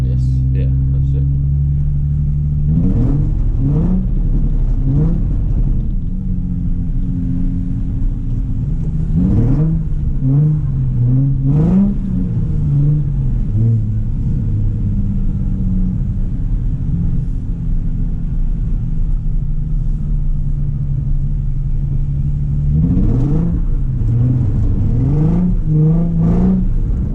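Nissan 350Z drifting around corners at a drift experience, engine droning steadily with repeated revving swells and tyre-scrubbing bursts, close and loud, with voices talking over it.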